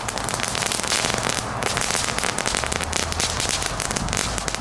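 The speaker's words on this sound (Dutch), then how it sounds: "Ze noemen ze dus handfakkels, maar dit zijn gewoon morning glories." Handheld sparkler fireworks of the morning glory type from HEMA, giving off a dense, continuous close crackle and fizz that stays loud and steady throughout.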